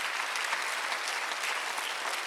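Church congregation applauding during a Sunday worship service, steady dense clapping from a crowd sustained throughout, fairly loud with no voices over it.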